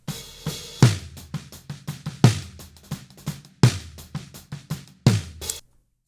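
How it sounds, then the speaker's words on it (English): A dry, low-tuned snare drum plays a pattern of sharp hits with strong accented backbeats and lighter ghost notes in between, unprocessed and close. "So just the snare, top and bottom, no plugins, sounds like this."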